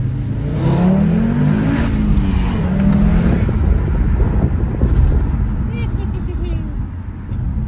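A tuned Audi TT RS engine pulls hard under acceleration, its rising, droning note heard from inside the car over steady road and wind roar, with a second climbing surge after a brief dip.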